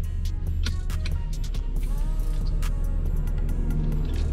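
A lifted Jeep Wrangler on new rims drives on its first ride, giving a steady loud engine and road rumble with sharp clicks and knocks scattered through it.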